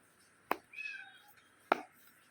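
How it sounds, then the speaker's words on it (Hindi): Two tiny kittens, around ten days old, one black-and-white and one black, in a home: a single thin, high mew rises between two sharp close clicks, quiet overall. "हमारे घर में दो बिल्लियाँ हुई है, छोटी छोटी।"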